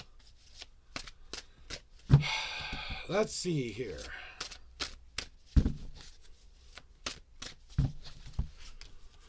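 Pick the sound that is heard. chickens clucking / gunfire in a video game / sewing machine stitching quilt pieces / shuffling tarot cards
shuffling tarot cards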